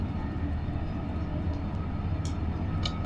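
Train moving fast in the Train Sim World 5 simulator game, a steady heavy rumbling roar of wheels and engine with a few faint higher clicks, continuous and alone.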